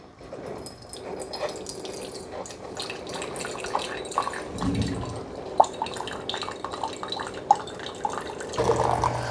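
A Keurig K-Duo coffee maker running a fresh hot-water rinse on the K-cup side, with water streaming and trickling into a cup, soft gurgling and drips, and a louder pump burst near the end.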